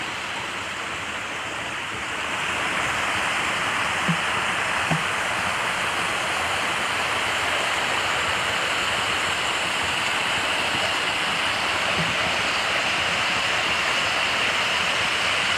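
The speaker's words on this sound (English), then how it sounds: "I've got the sounds of the waterfall to mask my noise" A waterfall's rushing water makes a continuous broadband roar that swells after the first two seconds and then holds steady and full, with a few faint clicks nearby.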